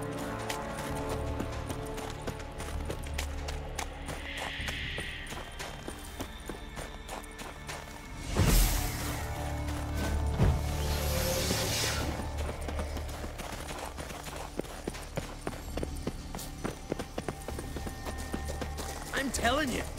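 Horse hooves clip-clop steadily in The Witcher 3: Wild Hunt, under game music and ambient effects, with a louder thump and whoosh midway.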